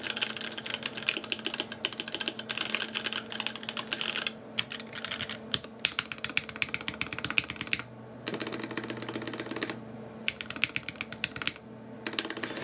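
Rapid clacky, higher-pitched keystrokes on a Viktus Deltablade mechanical keyboard with a brass plate, close and crisp, in bursts with brief pauses between runs of typing.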